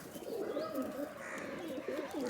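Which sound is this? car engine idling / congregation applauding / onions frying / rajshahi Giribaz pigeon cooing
rajshahi Giribaz pigeon cooing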